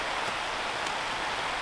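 Steady rain hisses continuously, a dense even patter of drops with no voices, fairly soft and close.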